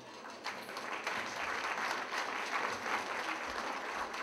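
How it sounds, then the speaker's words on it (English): Warm crowd applause fills a banquet hall during a community unity dinner, starting quickly and holding at an even level with no speech on top. "Please give yourself a round of applause."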